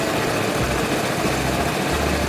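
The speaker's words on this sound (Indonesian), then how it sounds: "dalam keadaan motor langsam" A Vespa Primavera 150 automatic scooter engine idling steadily, a close, continuous low rumble with even vibration and no talk.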